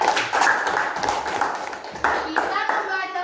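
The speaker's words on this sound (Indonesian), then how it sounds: "Tepuk tangan dulu untuk Cika." A class of young children claps together for a classmate, a brief burst of scattered hand claps mixed with excited kid voices and chatter.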